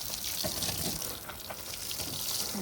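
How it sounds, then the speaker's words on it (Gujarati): A steady hiss of water spraying onto fresh plaster on a parapet wall at a construction site, continuous and fairly close, with no talking. "પાણી છાંટવાનું ચાલુ."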